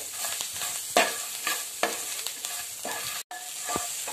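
Green chilli thecha with salt and coriander leaves being sautéed and stirred in a pan over low heat, a steady close sizzle broken by repeated scraping strokes of the spoon.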